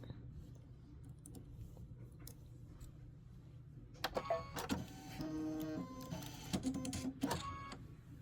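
A home sewing machine stitches a placement line on a bench pillow project. It starts after a quiet stretch with a fast, close mechanical whirr and rapid clicking that runs for several seconds in uneven bursts.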